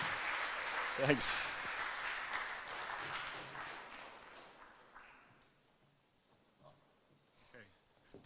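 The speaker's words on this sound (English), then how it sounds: "Let's give a round of applause to Keri." Applause from an audience at a university orientation event, a burst of clapping that starts loud and then thins out and fades, with a brief spoken thanks and scattered voices as it dies away.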